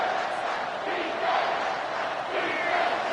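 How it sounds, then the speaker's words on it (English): A dense, loud football stadium crowd roars continuously during a late third-down play in a Texas game, a sustained wall of cheering and shouting with slight swells. "this crowd is tearing the lid off this place"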